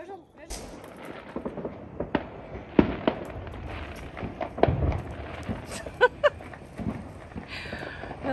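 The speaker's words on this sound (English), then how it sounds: "And all the fireworks going on," Fourth of July fireworks go off in a scattered series of sharp bangs and crackles, some near and some distant. People talk and react between the pops.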